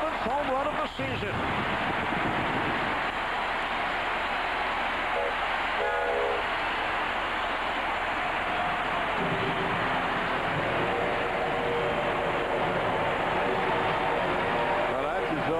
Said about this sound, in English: We're talking about that train and the engineer up there above that wall, and Hidalgo almost hits it up on a railroad